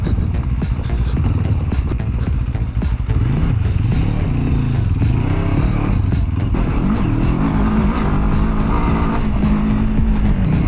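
A small, older Suzuki DR dirt bike revs and drones loudly nearby on a downhill forest trail in the Massif Central, pitch rising and falling as it rides along, with rattling clatter over the ride.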